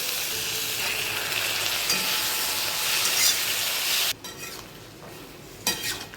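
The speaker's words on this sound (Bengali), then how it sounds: "ভালো করে কষিয়ে নিচ্ছি।" Spice paste of ground coriander and cumin with a little water sautéing with peas in a pan, a steady loud sizzle with occasional stirring scrapes and a sharp break partway through.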